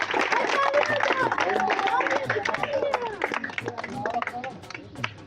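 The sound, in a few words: applause at a wrestling akhara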